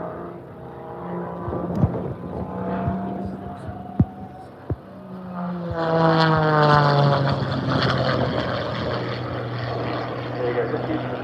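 A propeller aircraft engine hums and drones as the plane flies past at an airshow, swelling louder midway, heard under an announcer's commentary.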